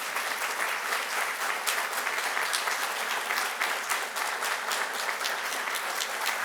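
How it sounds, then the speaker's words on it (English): Sustained audience applause during a university keynote on civic learning as seventh and eighth graders stand, a dense, steady wash of many hands clapping at even loudness throughout, with no talk over it. "Give them a round of applause."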